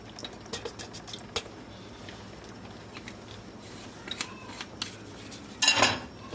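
A utensil mixes greens and rice in a pot, giving a faint bed of soft stirring with scattered light clicks and scrapes of metal, ending in a louder clatter.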